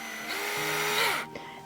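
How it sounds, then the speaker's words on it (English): A power drill whirs briefly while boring a hole into the back of an animal figurine; a single continuous rising and falling whine up close, cutting off abruptly. "drill holes in the backs of the animals to insert our photo holder"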